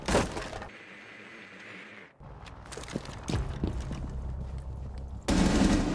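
A 552 Commando assault rifle in a shooter video game fires a rapid burst of cracking automatic shots, then scattered sharper reports and impacts amid game ambience, ending in another loud burst.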